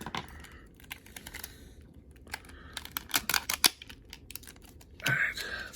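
Scissors snip through plastic toy packaging during a Star Wars Black Series figure unboxing, a series of sharp, close clicks and crinkles scattered irregularly, fairly quiet with faint background noise.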